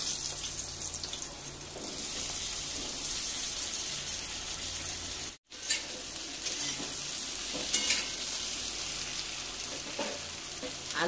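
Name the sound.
potatoes frying in oil in a pan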